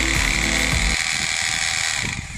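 A Bosch GBH 2-26 DRE rotary hammer drill bores through concrete and iron with a loud, steady motor whine. The low, rattling hammer rumble drops away after about a second.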